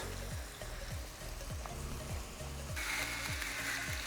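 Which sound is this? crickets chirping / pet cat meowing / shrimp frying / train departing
shrimp frying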